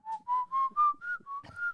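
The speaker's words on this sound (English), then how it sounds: "A simple, haunting musical phrase whistled off screen tells us that a young woman will be" A haunting musical phrase is whistled off screen in the film M: seven clear, steady whistled notes rise gently in pitch in an even rhythm, heard alone and fairly soft.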